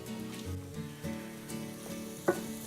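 Food fries in a pan with a quiet, steady sizzle, punctuated by a few soft stirring movements and one brief sharp knock near the end.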